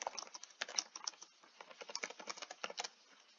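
Typing on a computer keyboard while writing a sentence in Google Docs: a quick, uneven run of close, crisp key clicks with brief pauses, no voices.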